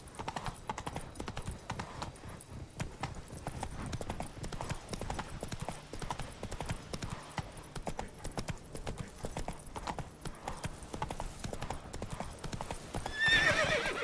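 Geralt's horse Roach from The Witcher 3 trotting, a steady stream of clip-clopping hooves with occasional whinnies, running continuously alongside game ambience and music.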